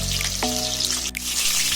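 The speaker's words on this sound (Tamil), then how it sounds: "சிக்கன் நல்லா வேக விடுங்க." Chicken 65 pieces frying in oil in a pan at home, a steady close sizzle with a brief clatter partway through, no voices.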